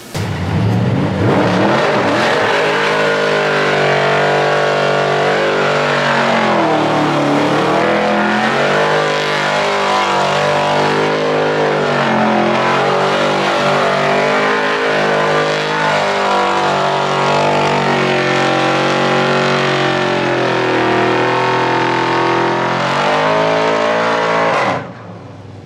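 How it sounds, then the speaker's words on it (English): A performance car doing a burnout, its engine revving hard and loud for about twenty-five seconds with rising and falling pitch sweeps, the roar cutting off abruptly at the end. "go do another burnout"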